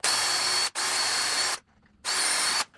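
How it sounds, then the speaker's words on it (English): A power drill with a 1/8 inch bit bores into wood in three loud, close bursts of high whirring, separated by short pauses. "now I'm using a 1/8 inch bit and I'm gonna drill this the rest of the way out"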